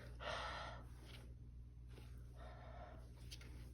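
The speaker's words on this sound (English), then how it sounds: "I breathe on my boot." Two short, soft open-mouthed breaths are puffed onto a leather parade boot during polishing, faint and close with a pause between them.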